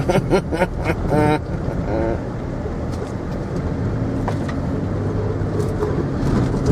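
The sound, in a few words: car driving on grass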